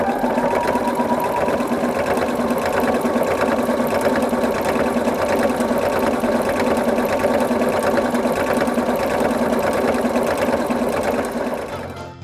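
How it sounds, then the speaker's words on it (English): A sewing machine fitted with a walking foot runs steadily, stitching binding along the edges of fabric oven mitts with a fast, even mechanical whir that continues for about twelve seconds before slowing to a stop, close and clear. "I'm going to use my walking foot to do this stitch"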